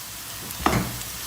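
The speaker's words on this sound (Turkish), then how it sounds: "Hemen içine biberleri atıyor." Peppers are tossed into a pan of sizzling onions and chicken chops: a steady frying hiss with a sudden brighter crackle and stir as the peppers hit the hot oil.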